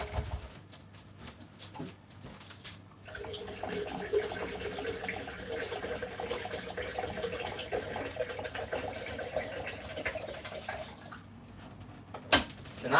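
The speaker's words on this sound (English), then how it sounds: "Water has to go in the kettle" Tap water runs steadily into a kettle in a home kitchen for about eight seconds, a broad continuous rush with a quieter start and end and a sharp knock near the end.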